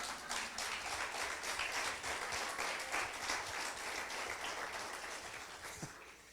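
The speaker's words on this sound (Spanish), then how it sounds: "dense un aplauso a ustedes mismos" A church congregation applauds at a Spanish-language service, with steady, fairly quiet clapping that fades slightly at the end.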